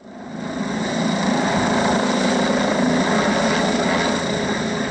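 A helicopter working on a power line repair operation hovers close and loud, its rotor and engine a steady, dense drone that swells in the first second and then holds constant.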